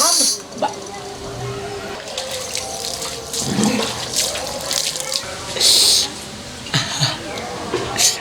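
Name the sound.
water running as someone bathes inside a house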